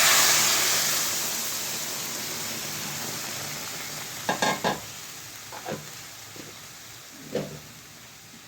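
Vegetables for a shol fish curry with beans, potato, eggplant and cauliflower hit a hot pan with a loud burst of sizzling that slowly fades. A few scraping stirs of a utensil follow against the continuing fry, with no voices.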